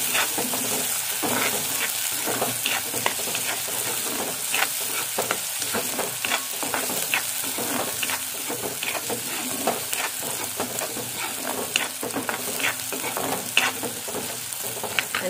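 Soaked chana dal sautés in a pan for taakla wild greens, with steady loud sizzling and repeated stirring scrapes throughout.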